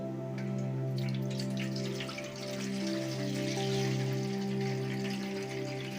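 Water drained off soaked papad dough in a kitchen, a soft steady trickle and gentle dripping, faint and continuous over a low background hum, with no talk.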